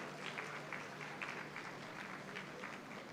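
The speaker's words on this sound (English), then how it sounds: "And a huge round of applause" Faint, steady applause from an international religions conference audience in a hall, with scattered distinct claps over a low constant hum, continuing without talk.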